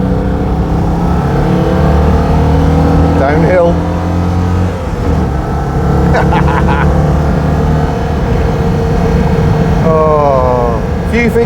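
A loud Citroen 2CV drives along winding Welsh lanes, its small air-cooled engine droning steadily with brief revs and shifts, while someone talks over it throughout.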